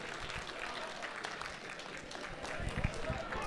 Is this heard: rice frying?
no